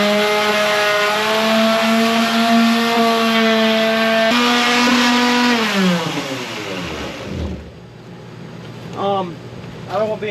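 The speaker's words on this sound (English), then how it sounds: "I'm using a little old Black & Decker Type 5 sander to hopefully sand this away" A little old Black & Decker Type 5 sander whines with a steady, tonal motor hum, then spins down and stops after about seven seconds, leaving a few quieter clatters behind.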